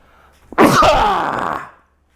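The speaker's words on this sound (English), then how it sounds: "I'm going to fucking sneeze" A single sharp sneeze bursts out close up, a quick intake then a loud explosive release fading over about a second, followed by quiet.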